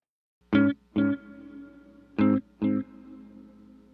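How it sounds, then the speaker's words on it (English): Four plucked guitar notes in two pairs, each ringing out through a delay and a large, somewhat dark plate reverb from a Strymon effect, its long tail lingering between them. "The reverb itself is a large plate that is somewhat dark."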